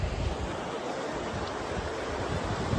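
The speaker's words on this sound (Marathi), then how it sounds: "ही नदी तुम्ही बघू शकता एवढी मस्त मोठी नदी आहे इकडनं." Wide river at Pali in Raigad, a steady broadband rush of flowing water with some wind buffeting on the microphone, fairly faint and continuous with no voices.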